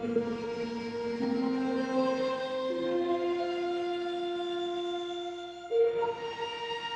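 Weird textured synth pad for a smooth drill beat, sustained tones that shift pitch slowly in long held layers with a hazy, shimmering texture, moderately quiet and heard alone.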